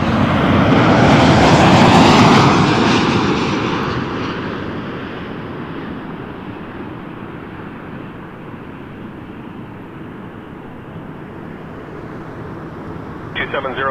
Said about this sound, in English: Oh, reversers. I hear them.